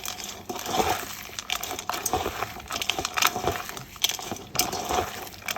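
Puffed rice being mixed by hand with chanachur, lemon juice already added, giving a steady dry crinkling and crunching rustle with small clicks, close and continuous with no talk.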